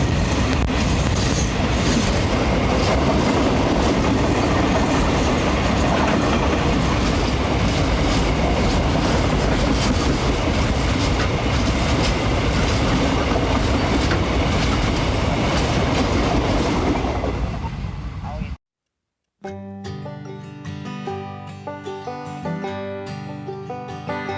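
A Thai railway train passing through Klang Dong station: a loud, sustained rumble and rhythmic wheel clatter close by that fades out, followed by a brief silence and then music.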